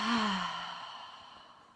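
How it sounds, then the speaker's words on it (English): A long, deep exhale is breathed out through the mouth during an office breathwork exercise. It is a single close, voiced sigh that starts strong and fades slowly, heard alone. "And then as you exhale, go,"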